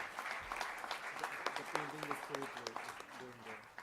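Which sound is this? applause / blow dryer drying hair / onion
applause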